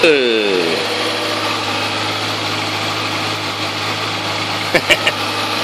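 A big bike motorcycle engine revs once with a falling whine at the start, then settles into a steady, loud idle rumble with a few sharp knocks near the end.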